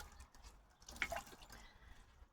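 Water drips and splashes faintly as a wet polishing cloth is wrung out, probably over a bucket of clean, cool water, before polishing a 1987 Toyota Corolla FX16. One brief cluster of drips stands out over a quiet background.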